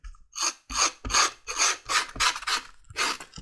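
Seven rhythmic rasping strokes as a cleaver sheath piece is scraped to roughen its surface, each pass a close, loud, gritty rub with brief pauses between, no voices.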